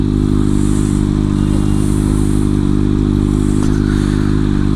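Kawasaki Ninja ZX6R sport bike engine on a test ride, a loud, steady, buzzing drone held at a constant pitch from close by, with wind rush above it.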